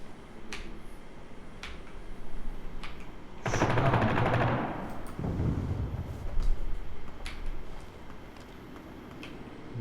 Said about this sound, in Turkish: Bir silah.